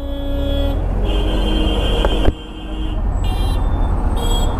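Steady road traffic rumbles in Dharavi, Mumbai, with a couple of short car horn toots standing out near the end over continuous engine noise.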